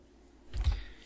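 A computer mouse gives a single soft click, faint and close, with a brief muffled knock around it in a quiet room.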